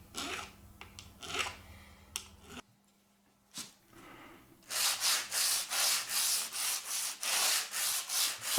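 An electric guitar neck is sanded by hand with rhythmic abrasive rubbing, irregular strokes at first, a brief pause, then a steady run of loud, even back-and-forth passes up close.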